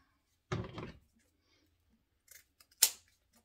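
Scissors snipping ribbon tails on an Easter lantern craft, two short crisp cuts separated by a pause and a few faint handling clicks, close and quiet.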